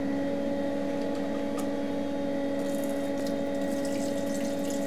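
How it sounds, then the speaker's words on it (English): A flood coolant pump runs on a lathe in a home garage shop, a steady liquid whir with constant tonal hum and splashing coolant, close and continuous. "Let's get our flood coolant going first."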